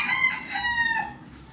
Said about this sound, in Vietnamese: Đó, hai con gà nè, con thấy không nè